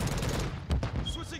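Rapid bursts of gunfire crackle in Call of Duty MW2 gameplay, a dense fusillade of shots with a few sharper blasts and electronic chirps near the end.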